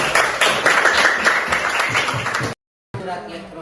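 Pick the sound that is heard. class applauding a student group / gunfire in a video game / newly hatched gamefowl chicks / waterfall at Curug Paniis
class applauding a student group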